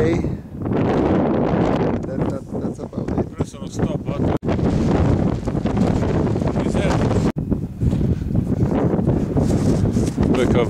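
Gusty wind buffets the microphone on a mountain trail near Maze Peak in Clearwater County, Alberta, a loud, rumbling roar with short dips, under a voice.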